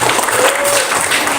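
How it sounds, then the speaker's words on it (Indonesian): A brief burst of applause from a group of people, steady clapping close by, for the first group at a mentoring session. "Tepuk tangan untuk kelompok 1."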